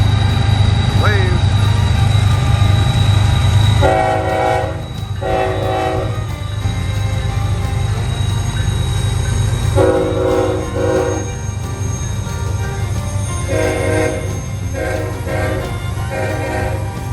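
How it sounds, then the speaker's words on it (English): A train rolls past at Horseshoe Curve, a loud steady rumble of cars and wheels, while its horn sounds in several long blasts, mostly in the second half, close by. "All right, Nick, here comes the second train up the other side of this track."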